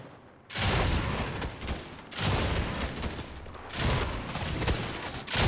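Loud bursts of automatic gunfire from a weapon in Fortnite rattle out in about four sustained volleys separated by short pauses.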